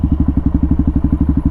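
A Suzuki DRZ400 single-cylinder motorcycle with an aftermarket exhaust, either a Yoshimura RS-2 or an MRD Z-Pro Shorty, idles loud and close with a steady rapid thumping pulse.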